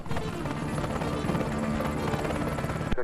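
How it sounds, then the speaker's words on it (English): A tour helicopter's steady rotor drone fills the scene, continuous and moderately distant, at a Hudson River tour heliport. "This is where the helicopter is going for the Hudson River tour."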